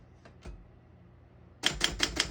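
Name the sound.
1956 SM1 vintage desktop typewriter keys typing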